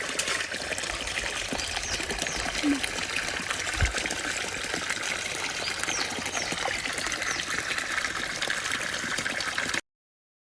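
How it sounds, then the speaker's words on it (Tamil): Tap water runs steadily while live crabs bought at the Mullaitivu seashore are washed, a close, continuous rushing flow that cuts off abruptly just before the end. "நாங்கள் இப்போ இதை கழுவி எடுக்க போகிறோம்."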